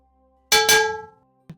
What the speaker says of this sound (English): As you open, the bell rings.